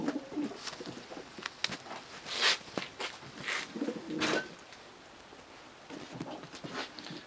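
Breeding pigeons cooing nearby, several soft throaty coos in uneven bursts, with light scuffling and clicks between them in a quiet loft.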